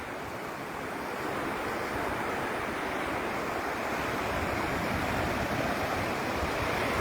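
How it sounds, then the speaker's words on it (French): Ocean waves wash continuously onto the sea shore, a dense, steady roar of surf that stays loud and unbroken with wind noise over the microphone and no voices. "Vous voyez les vagues qui sont derrière moi."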